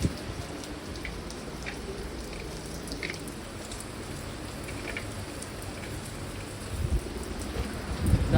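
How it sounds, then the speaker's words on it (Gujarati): Steady rain falls in a soft, even hiss of drops that keeps going without a break, fairly quiet, with a low rumble building near the end. "વરસાદ સવારનો એકને એક ધારે ચાલુ છે."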